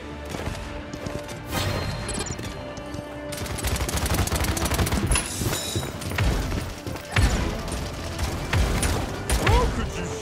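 Rapid gunfire and thudding impacts from a Paladins match play out over a dense mix of game music and effects, with loud bursts clustering through the second half as a player speaks now and then.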